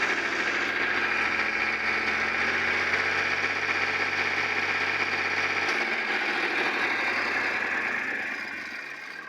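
A Powertrac tractor engine in good running condition, idling steadily with a rough, knocking diesel rumble close by, then fading slightly near the end, with no talking.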